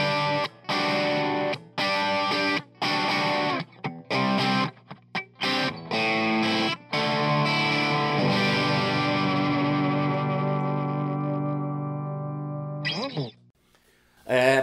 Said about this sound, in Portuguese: ficou obviamente com pouca distorção